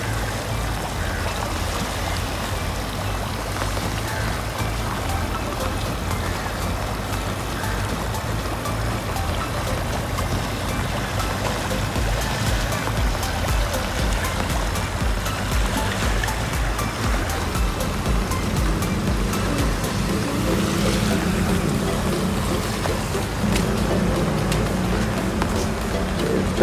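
A fast-flowing stream after rain in August, rushing water roaring steadily and loudly throughout, with the flow swelling slightly toward the end and no clear talk.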